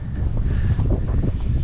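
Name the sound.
strong wind on the microphone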